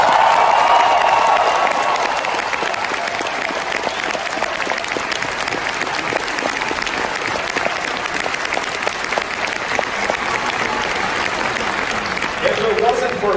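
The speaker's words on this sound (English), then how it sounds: "can we get a big applause for my mentor, Mr. Peter Mayhew?" A large audience at a Star Wars Celebration panel in Chicago applauds steadily for over thirteen seconds, a dense wash of clapping with some cheering and a voice speaking at the start and end.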